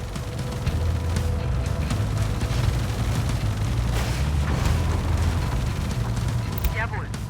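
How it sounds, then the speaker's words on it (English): Heavy, rumbling artillery explosions from KV-20 Zukov artillery vehicles roll steadily through a Tom Clancy's EndWar battle in Europe. The low booms are sustained beneath radio-style voice chatter. "Artillery fire on our position"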